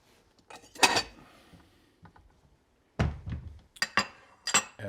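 Ceramic bowls being taken out in a kitchen during shrimp scampi cooking: a few separate clinks and knocks, close by, with short quiet gaps between them and no talking.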